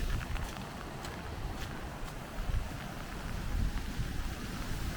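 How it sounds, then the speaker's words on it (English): Steady outdoor wind noise rumbling against the microphone beside a choppy pond, with waves washing in faintly underneath; continuous, no voices. "Windy, so there'll be some wind noise out here."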